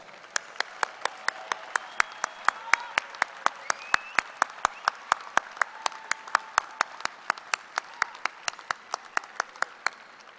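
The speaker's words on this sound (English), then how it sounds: "join me in giving your loved ones a big and well-deserved round of applause" Applause at a university engineering commencement ceremony, with sharp, evenly spaced claps ringing out close by in a steady rhythm over a faint, distant wash of crowd clapping.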